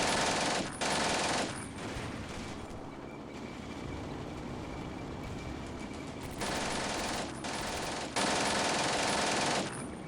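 Machine gun fire in the war game Combat Mission Beyond Overlord, heard as long sustained bursts of rapid shots, one at the start and more after a quieter stretch, over a constant rumble of battle noise.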